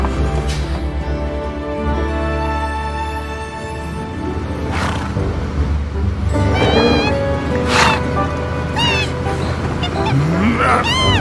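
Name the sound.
birds honking in video game Final Fantasy VII Remake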